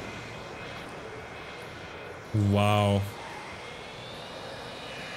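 The engines of an Antonov cargo plane in Transport Fever 2 swell into a loud, harmonic droning roar for under a second over steady background hiss. A voice briefly reacts.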